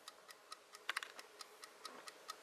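An IKEA kitchen timer ticks steadily and quietly nearby. The dry clicks are evenly spaced in a regular rhythm, with no voices.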